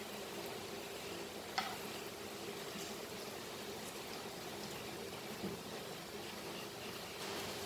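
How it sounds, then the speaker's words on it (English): Boiled egg chops, eggs coated with potato in the Goan style, frying in hot oil, a steady close sizzle and crackle running throughout with a few small pops and no talking. "See that you fry this nicely."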